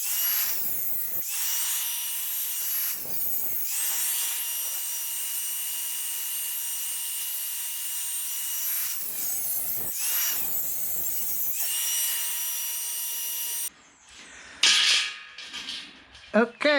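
Power tool driving bolts to fasten a stainless steel heat shield onto a mower: a high, steady whining drone held for long stretches, broken by short pauses and brief bursts, with clanking handling at the end.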